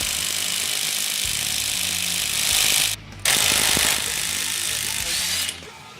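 A pneumatic impact gun hammers loose the harmonic balancer bolt on a Mini Cooper S. Loud, rapid rattling bursts are broken by a short pause near the middle, with voices briefly audible under the noise.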